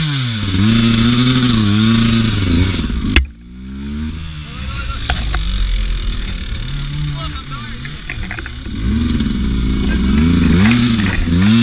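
Beta RR 200 enduro motorcycle engine revving up and down on a winter trail, loud and close, with the pitch rising and falling in repeated surges and a clattering mechanical edge.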